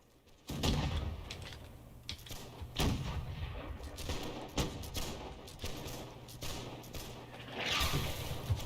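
Mortar and gunfire booms in the musket-era multiplayer battle game Holdfast: Nations at War, with several sharp, loud blasts at irregular intervals over a continuous rumble of distant battle noise.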